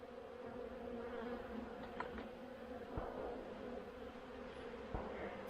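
Honey bees hum at a wide-open hive entrance in autumn, a faint continuous buzzing drone with a few soft knocks, no one speaking.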